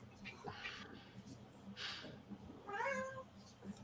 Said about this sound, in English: I don't think I've ever heard Ninja meow. It's always Mac